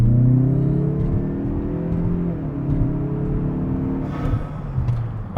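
Mazda 3 Turbo with rear motor mount inserts pulling away from a stop with the air conditioning running, a steady loud low engine drone and whir inside the cabin that deepens briefly midway as it accelerates.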